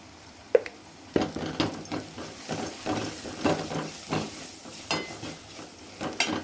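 Chili powder stirred into garlic, onion and coconut frying for drumstick kara kuzhambu: a steady close sizzle with repeated scraping strokes of a ladle against the pan and occasional sharp knocks.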